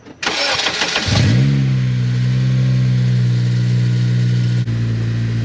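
A Honda Civic Si, 8th generation, cranks and catches, then settles into a loud, steady idle close by, held in neutral on a car under suspension work; the engine note holds level throughout with a brief dip near the end.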